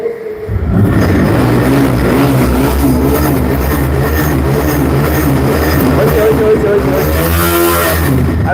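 A TVS Raider motorcycle engine runs steadily and loudly at a used bike sale, a continuous close idle with slight revving, while people talk over it throughout.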